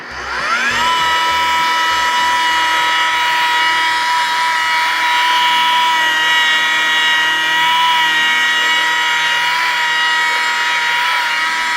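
A machine polisher buffs compound into black Toyota car paint with a steady, loud, close high-pitched whine that runs continuously at an even speed.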